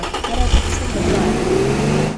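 A sports car engine in the video game Teardown revs steadily and loudly, its pitch climbing as it accelerates and holding a sustained mid-range roar throughout.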